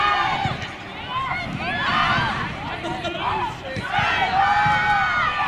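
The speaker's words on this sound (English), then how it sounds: "The crowd seems to be counting down." Football derby crowd chanting a countdown together, a loud continuous mass of voices rising and falling in waves close around the listener.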